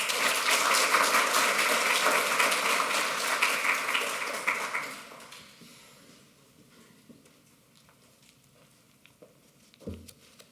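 Audience applause greets a speaker at a museum talk on knights in armor, a dense crowd clapping for about five seconds before fading out, followed by quiet room tone and one brief thump near the end.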